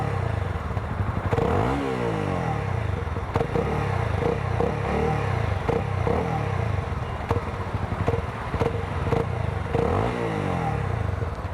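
A Honda 300cc single-cylinder motorcycle revs its exhaust close by, the engine note sweeping up and falling back in repeated blips over a steady idle, with light mechanical clatter.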